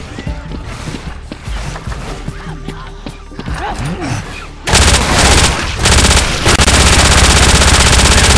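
Submachine gun fire in the zombie shooter Left 4 Dead 2, first scattered game noise, then a loud, dense sustained burst of rapid automatic shots that dominates the second half.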